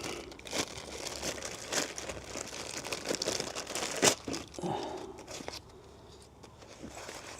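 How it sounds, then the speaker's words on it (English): A clear-topped plastic vacuum sealer bag is handled up close, giving bursts of crisp crinkling and rustling that fade toward a quieter end, with no talk. "this bag, of course, is just one of the ordinary King's type bags you get"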